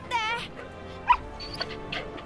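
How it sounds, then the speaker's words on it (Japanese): Dog barking in Final Fantasy XVI, a couple of short yips and whimpers mixed under game dialogue and background sounds, fairly faint. "ワンちゃんおる。"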